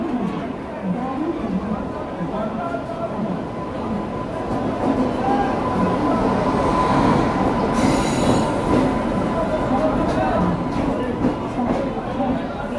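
Wheels of the Sachkhand Express, a train running from New Delhi to Amritsar, squeal against the rails in a sustained high metallic whine heard from inside a coach, steady throughout with a rumbling undertone and people talking faintly.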